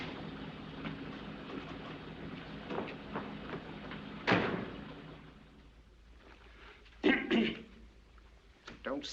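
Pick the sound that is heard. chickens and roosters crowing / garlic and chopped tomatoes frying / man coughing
man coughing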